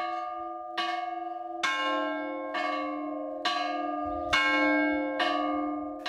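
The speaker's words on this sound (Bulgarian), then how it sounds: "звънът на камбаната е празничен" An Orthodox church bell rings festively on a holiday, seven or eight evenly spaced loud strikes that each leave a long shimmering ring, with no talk.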